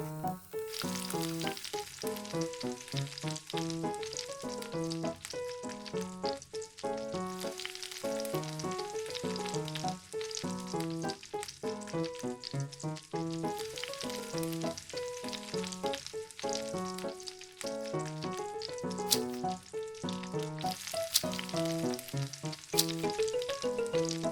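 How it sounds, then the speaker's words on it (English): Chicken thighs coated in crushed Cheetos fry in hot oil with a steady, dense sizzle, heard throughout under prominent rhythmic background music. "Let's fry it."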